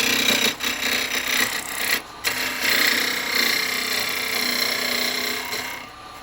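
A wood lathe spins a freshly acquired piece of wood during turning, giving a steady whirring hum with brief dips and a short interruption near the middle, holding close and fairly loud throughout.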